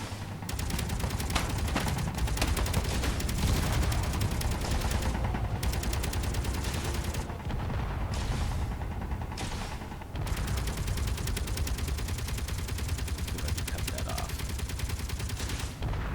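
Six guns firing in the Space Engineers video game, a dense, continuous roar of rapid gunfire with brief dips, loud and sustained, under a faint voice.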